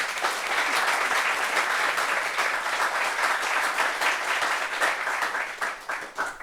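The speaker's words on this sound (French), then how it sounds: "Ça s'applaudit aussi." Steady, dense applause from a crowd fills the space, holding evenly before thinning slightly at the end.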